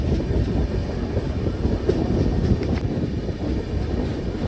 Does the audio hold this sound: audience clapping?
no